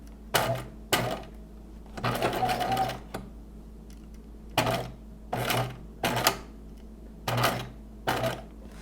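Home sewing machine stitching a foundation slip, running in short close bursts of rapid mechanical chatter separated by brief pauses, with the thread reportedly jamming a little.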